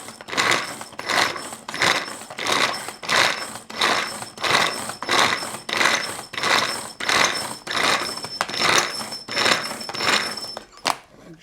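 Rapid rhythmic whirring and clattering from a small electric food chopper mincing garlic, pulsing in steady bursts about twice per second, close and loud throughout.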